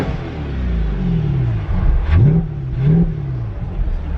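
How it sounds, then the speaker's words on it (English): A C8 Corvette's 6.2-liter V8 blips through a few quick revs over a low idle rumble, each rev rising and falling in pitch, close and fairly loud. "let's give a couple more revs."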